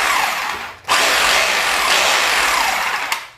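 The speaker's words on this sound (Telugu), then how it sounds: "ఓన్లీ హ్యామరింగ్ అయితే పెట్టాను." A rotary hammer drill running in hammer-only mode makes a loud, close, continuous rattling whine, stops briefly, then starts again and runs steadily.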